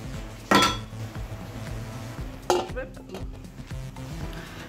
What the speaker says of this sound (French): je mélange tout ça, je couvre et je laisse bouillir 15 minutes